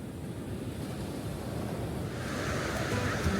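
Ocean surf rolling onto a beach in St. Augustine, Florida, a steady broadband wash with wind buffeting the microphone, swelling slightly louder toward the end, no voices.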